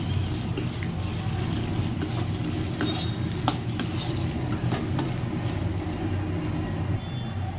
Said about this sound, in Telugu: ఇప్పుడు ఇందులో అల్లం వెల్లుల్లి పేస్ట్ వేసుకుంటున్నాను ఇంత దీన్ని కూడా బాగా వేయించుకోండి పచ్చివాసన పోయే వరకు